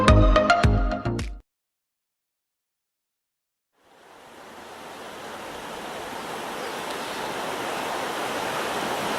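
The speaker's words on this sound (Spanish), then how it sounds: "Aquí estamos en el río Maipo," The Maipo river rushing in a steady broadband roar that swells in after a short burst of music and a pause, holding constant and fairly loud with no voices.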